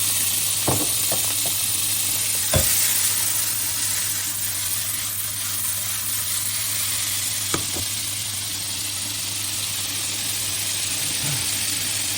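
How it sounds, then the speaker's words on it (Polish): Sliced bacon sizzles in a frying pan with a steady, broad hiss and a few sharp pops and crackles. "na patelnię ląduje boczek pokrojony"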